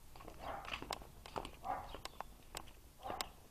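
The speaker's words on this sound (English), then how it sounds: "Dog saying hello to me." A dog greets someone at home near an open patio door with a few short, fairly close barks and yaps in an uneven rhythm, mixed with light movement noise.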